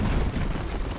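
A Dota 2 tower collapsing gives off a dense, rumbling explosion, a continuous loud low crash filling the whole moment without any voices.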